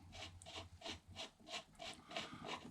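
Rear bolt piece of a 1907 Roth-Krnka Austro-Hungarian cavalry pistol being spun off by hand: a close, quiet metallic rasping and rubbing that repeats in steady strokes, about five turns, with no talk.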